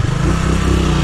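A motorcycle engine droning loud and close during wheelie practice, a sustained low rumble with slight revving over about a second.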